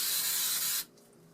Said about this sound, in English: you're just going to spray some of this glue on there